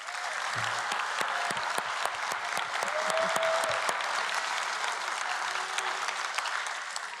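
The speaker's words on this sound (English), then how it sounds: "Let's have a big round of applause for Dave Zarin, everyone" An audience applauds at the closing of the National Science Bowl 2025 finals, many hands clapping in a steady, sustained round with a few sharper individual claps standing out.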